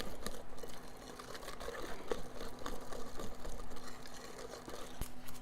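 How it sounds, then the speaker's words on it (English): Brownie batter of melted chocolate and butter, flour, eggs and sugar being whisked in a bowl, a quick rhythmic scraping and tapping that continues steadily throughout at moderate volume. "I'm just gonna give this a really good whisk"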